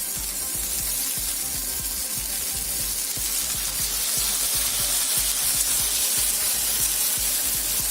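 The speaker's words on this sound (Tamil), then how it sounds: "ஊற்றி கொஞ்சமாக ஆயில் விடுறேன்." Oil goes into a hot grill pan for vanjaram seer fish fry, making a loud, steady, close hiss and sizzle that runs without a break for about eight seconds, with no talking.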